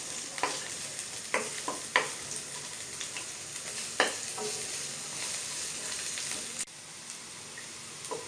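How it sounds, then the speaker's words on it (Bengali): Green chilies and chopped onion fry in oil with a steady close sizzle, broken by sharp scrapes and taps of a spoon stirring the pan at irregular intervals. "মরিচ এবং পেঁয়াজটা আমি ব্রাউন কালারের মতো করে ভেজে নেব।"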